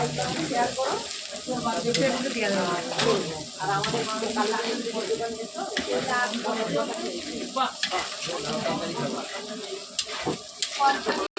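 Egg and tarka masala sizzle and crackle steadily in a pan, while a spoon scrapes and stirs in repeated close strokes; a voice talks faintly over the frying.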